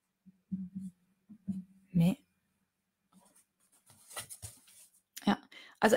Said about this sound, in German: Ich schreibe jetzt auch mal das Kanji für Me auf.